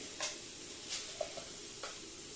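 Asafoetida and urad dal go into oil where garlic has already browned, giving a quiet, even sizzle broken by a few light stirring scrapes and ticks.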